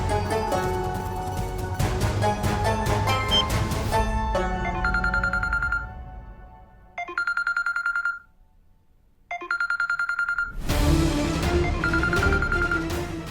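A phone ringtone plays, a repeating electronic melody that rings in several bursts separated by short pauses, with background music underneath, loud and clear.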